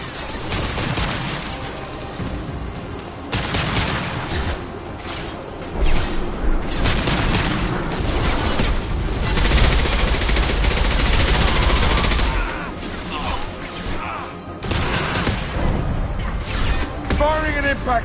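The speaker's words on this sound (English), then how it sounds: "Firing an impact shot." Sustained combat gunfire in Mass Effect 2, including an impact shot, heavy repeated shots and booms over about eighteen seconds amid crashes and clanks, with voices talking in places.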